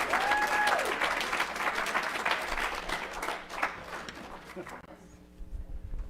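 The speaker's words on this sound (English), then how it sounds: "Let's give another round of applause to Michael Giramonte" An audience at a charity performance event applauds loudly, mixed with cheering voices, then the clapping thins and fades out toward the end as a low hum remains.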